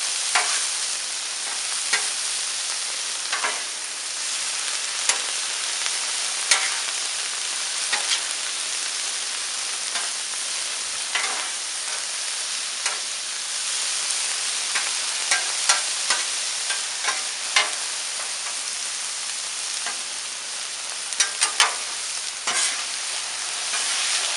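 Stir fry with shrimp sizzling steadily on a Blackstone flat-top griddle, a continuous loud hiss and crackle broken by frequent sharp scrapes and taps of a spatula, with no talking.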